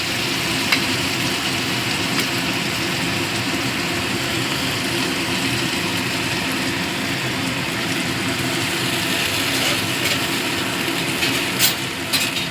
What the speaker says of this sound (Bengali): কাঁচা লঙ্কা চারমগজ কাজুর পেস্টটা দিয়ে এবার কষাবো